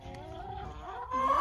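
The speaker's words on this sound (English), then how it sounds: "Hi, chicken." Chickens at a fair cluck softly and steadily close by, with a brief louder cackle toward the end, amid light background noise.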